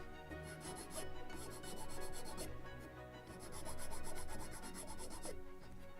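Small wooden parts for a 1776 gunboat Philadelphia model kit are rubbed and filed along their edges, a soft, steady rasping scrape repeating in even strokes, faint and close, with no talking.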